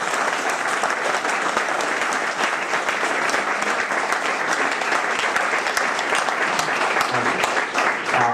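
Steady applause from an audience at a Diamond Jubilee party, dense and continuous clapping filling the room at an even level from start to finish.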